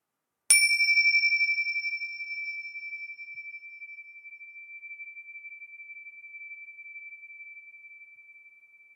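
A single bright strike of small cymbal-like bells, then a pure high tone that rings and slowly fades with a gentle shimmer over several seconds.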